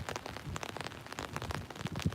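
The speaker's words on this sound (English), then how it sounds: "If I knew it was raining like this, I wouldn't have come." Steady rain falling outdoors near Heathrow Airport, a dense broadband patter with scattered sharper drops, fairly close and continuous throughout.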